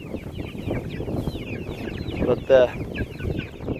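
Farm chickens cluck close by in a busy, overlapping chorus, with one louder squawk near the end and a brief spoken word partway through.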